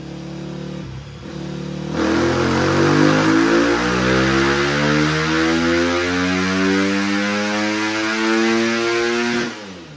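A stock Husqvarna 250F dirt bike engine on its factory ECU screams up through a long, loud rev sweep on a dyno, its pitch climbing steadily before it drops off near the end.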